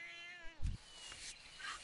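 A summoned cat meows in World of Warcraft, one brief in-game meow with a descending harmonic cry, followed by a soft thump and faint game ambience.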